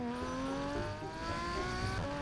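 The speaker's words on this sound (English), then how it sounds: "Such beautiful race car sounds to annoy the rest of the plaza with." A shiny race-car hoverboard in Pet Simulator 99 whirs steadily with a droning engine tone that rises and holds, loud and continuous, with no talking over it.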